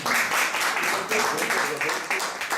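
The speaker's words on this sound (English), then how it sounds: "We have to applaud him" An audience applauds a speaker after a bookbinding and marbled paper presentation, a steady, fairly close wash of clapping hands with a voice talking underneath.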